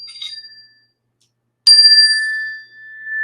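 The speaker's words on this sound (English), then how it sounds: "I have my chime here." A classroom chime is struck twice as a signal for the group, each strike a bright ringing tone; a faint first ring dies away, then a louder strike rings out clearly and sustains for about a second and a half.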